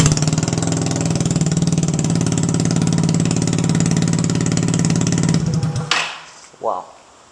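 Yamaha Zuma BWs125 scooter engine running with a Leo Vince exhaust and no muffler, a loud, steady, buzzy idle lasting about six seconds before cutting off, followed by a brief mechanical clatter.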